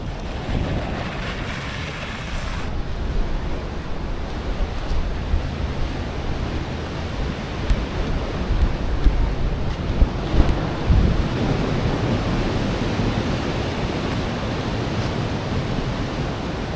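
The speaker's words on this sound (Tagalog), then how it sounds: "ito umuulan at ang lakas ng alon" Strong surf pounds Patapat Beach in rainy, blustery weather. Waves roar continuously and heavy wind buffets the microphone in rumbling gusts, with no voices present.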